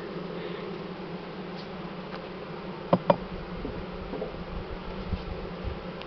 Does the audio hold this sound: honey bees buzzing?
yes